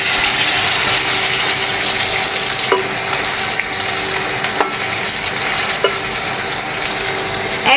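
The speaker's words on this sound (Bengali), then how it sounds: "একদম চুলার লো হিটে রেখে কচুগুলো ভেজে নেব" Taro pieces frying in oil over low heat give a steady, close, even sizzle with a few faint clicks and pops scattered through it, and no voices.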